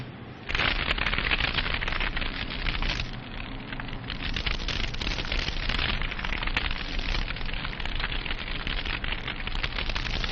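A loud, steady roar of fire and explosion effects starts abruptly after half a second and rumbles on without a break, with no voices over it.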